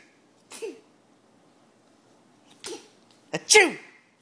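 Three sharp sneezes ring out close by: a single sneeze, then a pause, then a quick pair in succession, with quiet between them.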